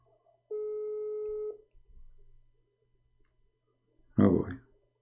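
An outgoing phone call to a man named Amir gives one steady electronic ringback tone lasting about a second, then a brief pause with faint clicks before a short burst of a voice on the line.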